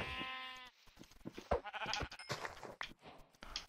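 Sheep bleating in Minecraft, one drawn-out bleat at the start followed by scattered short game sounds and clatter, with no clear speech.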